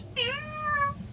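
A cat's meow plays once from a fairy-tale display at a park in Anakie, west of Melbourne, a clear, close, rising-then-falling call of about a second.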